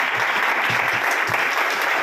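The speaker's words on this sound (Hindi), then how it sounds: "एक बार जोरदार क्लैपिंग, जोरदार दोस्तों, जोरदार" Steady, dense clapping from an audience welcoming a speaker at an indoor gathering, loud and continuous with no talk.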